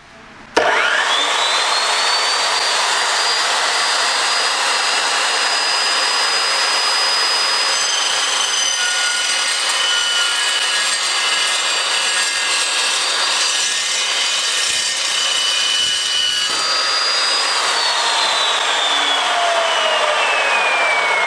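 An Evolution S355CPSL chop saw whines up to full speed and cuts through material in one long, loud, continuous grinding screech, close by, then the motor pitch drops as it winds down at the end.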